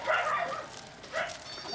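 A dog gives two short yipping barks near a riverbank, with people talking around and over the barks.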